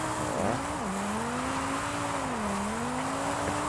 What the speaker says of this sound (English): Definitely put the V10 in it, because this thing sounds like... Okay, wow. This thing sounds like it has a VQ in it.